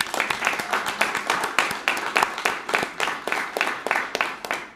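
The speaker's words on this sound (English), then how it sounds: "let's give him a round of applause" Applause at a grand opening and ribbon-cutting for a physical therapy clinic serving first responders, with a steady round of hand claps from a small crowd that stays close and even for several seconds and then tapers slightly.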